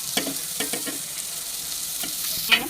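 Onion and green chillies fry in a pan with a soft, steady sizzle, broken by a few scraping stirs and occasional crackles, nearby and without speech.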